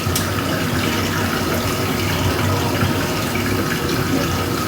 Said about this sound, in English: And then just rinse her off.